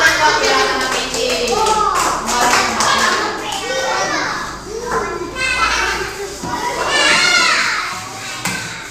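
Schoolchildren in an Indonesian primary school classroom clap and chatter together, with a burst of hand claps mixed into lively overlapping kids' voices that stay close and loud throughout.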